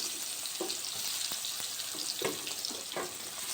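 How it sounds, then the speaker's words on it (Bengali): Chopped onions go into hot mustard oil in a wok already holding cumin, dried red chilli and bay leaf, giving a steady close sizzle with a few scraping stirs and clinks. "এবার দিলাম পেঁয়াজ কুচি"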